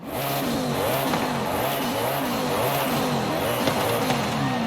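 Koenigsegg CCGT engine in the Forza racing game roaring steadily under sustained throttle, a loud continuous race-car drone with rising and falling pitch sweeps as gears shift, close and unbroken for the whole stretch.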